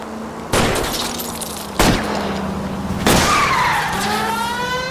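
A car skids and flips during a chase in L.A. Noire, loud tire screeches with three sharp crash and glass-breaking impacts spaced across the scene, then a rising whine as the wreck settles.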